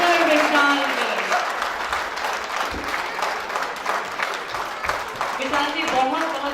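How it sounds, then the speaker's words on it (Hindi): An audience at an annual paint company award ceremony claps steadily for a winner, a dense sustained applause filling the hall while a presenter's amplified voice speaks over it. "आपकी तालियों का साथ चाहिए"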